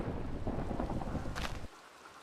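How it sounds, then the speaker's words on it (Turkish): Rain begins falling in a video game, a steady broadband hiss with possible low thunder rumble that stops abruptly partway through, leaving quieter background noise. "yağmur yağmaya başladı."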